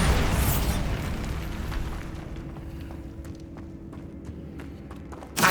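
A Bombarda spell explosion in Hogwarts Legacy, with a loud booming blast that decays into a long rumbling tail and scattered debris clatter, then a short sharp burst at the end.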